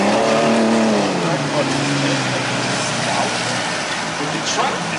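Compact race trucks racing at an autocross in Elk River, Minnesota, engines revving and pitching up and down through the turns, loud and fairly close, with a commentator talking over them.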